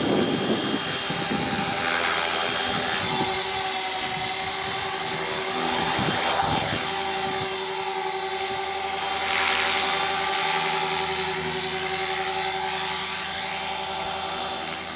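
A CCPM RC helicopter running on an 1800 mAh 3S battery hovers and maneuvers outdoors in wind, its rotor whine steady and loud throughout, with gusty low rumbles buffeting the mic near the start.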